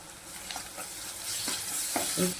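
Ginger garlic paste frying in a pan for a paneer gravy, with a close, steady sizzle and several scraping strokes of a spoon stirring it at irregular intervals.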